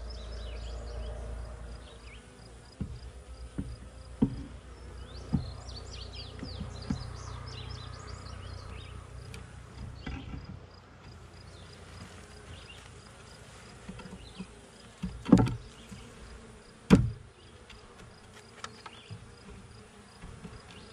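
Honeybees hum and buzz steadily around an open hive while a split is moved into a deep hive body, with occasional knocks and clicks of frames being handled.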